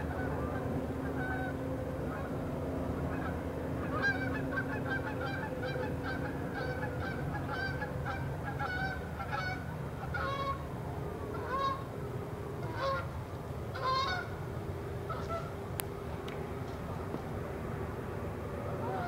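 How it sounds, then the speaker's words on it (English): A flock of geese honks repeatedly in the distance, irregular calls overlapping above a low, constant rumble of background noise. "You can hear the geese."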